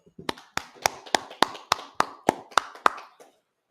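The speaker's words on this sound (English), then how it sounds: "Clap it up." About ten hand claps ring out in an even, steady rhythm, crisp and fairly close in a quiet room, then stop.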